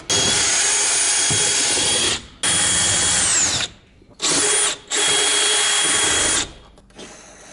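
A power drill whirs loudly in three bursts, drilling holes into a roof, running steadily for a couple of seconds each time with short pauses between, the motor pitch dipping as it bites.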